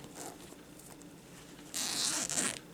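An invisible zipper is pulled in one quick, close rasping zip near the end, preceded by faint rustling handling noise.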